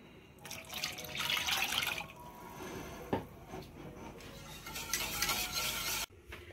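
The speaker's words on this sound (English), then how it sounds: "Now let's add the rest of the milk in." Milk poured into a roux and stirred for béchamel sauce, a soft continuous splashing and scraping that swells and fades over several seconds, ending abruptly.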